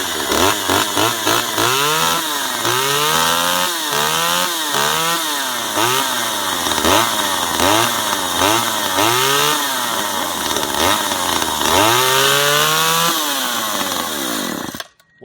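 A chainsaw runs steadily for about fifteen seconds, close and loud. Its engine rises and falls in repeated revving surges, then cuts off abruptly at the end.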